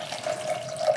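Water runs in a steady, even stream as it is poured to start a homemade milky skincare essence, close by and fairly quiet, with no one speaking.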